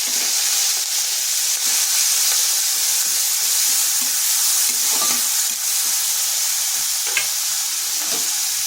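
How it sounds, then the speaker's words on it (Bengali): Onion, ginger and garlic paste frying in hot oil: a loud, continuous hiss and sizzle running throughout, with faint stirring scrapes now and then underneath. "দিয়ে দিচ্ছি পেঁয়াজ, আদা আর রসুন পেস্ট।"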